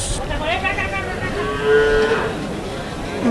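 Cattle moo at a busy village livestock market, with a loud drawn-out call rising partway through over a background of crowd murmur and scattered voices.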